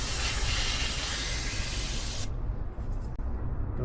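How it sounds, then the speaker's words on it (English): A loud, steady hiss of brake cleaner sprayed close up onto Ducati Monster 696 parts during an oil change, running continuously before cutting off, followed by a faint drip-like tail. "The brake cleaner is the choice of agent because it doesn't leave any residue"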